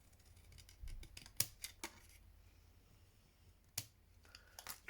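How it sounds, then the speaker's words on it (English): Scissors snip a few times through paper from CD covers, quiet, sharp clicks and crisp cuts in a short irregular series against near silence. "take my scissors."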